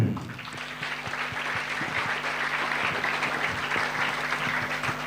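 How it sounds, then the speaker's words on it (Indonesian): Audience applause at a religious lecture on genealogy, a steady dense clapping wash running the whole stretch at even loudness, with a low hum and faint rhythmic thumps beneath. "Tepuk tangan."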